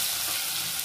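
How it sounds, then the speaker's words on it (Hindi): Garlic frying in hot oil while being stirred gives a dense, continuous sizzle that stays close and even in level for under a second, with no voices. "लहसुन को भी भून लेते हैं हम अच्छे से चलाते हुए"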